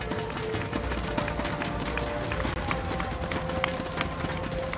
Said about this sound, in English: once more, a round of applause for RSG SG for their valiant performance